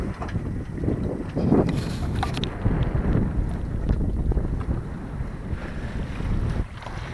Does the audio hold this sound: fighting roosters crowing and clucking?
no